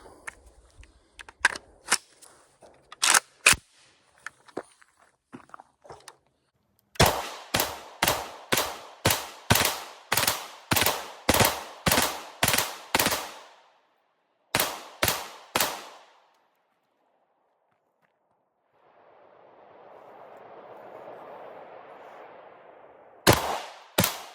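Rifle shots from a Pioneer 556 ring out loud and close, first in an irregular cluster, then a fast even string of about a dozen rounds, a few more after a pause, ending with a final pair.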